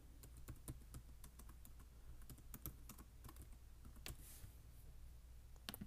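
Rapid, uneven keystrokes on a computer keyboard as a folder name is typed, close and steady with short pauses between bursts of clicks.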